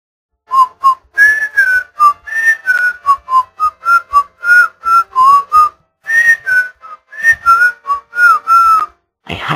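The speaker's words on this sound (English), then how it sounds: "Whistling always makes you feel better." A character in the game Day of the Tentacle whistles a happy tune, clear and close, in short lilting phrases with brief pauses between notes, alone without talk.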